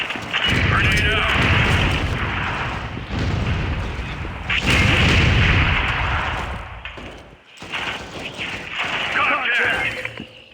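Loud bursts and rumbling blasts from the video game Critical Strike during a 6v6 match, with a grenade explosion among repeated heavy booms and gunfire-like crashes that swell and fade over about ten seconds, while players talk over the action.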